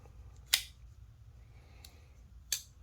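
A Twosun TS255 folding knife with a 14c28n blade and carbon-fiber-filled titanium handle snaps shut, with two sharp, close metallic clicks about two seconds apart and a fainter tick between them in a quiet room.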